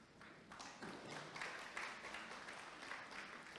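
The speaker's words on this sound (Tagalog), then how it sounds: "Parang mahina ang palakpak na yan para sa Panginoon" A church congregation claps softly and a little unevenly, a faint, thin patter of applause that carries on for several seconds without talk.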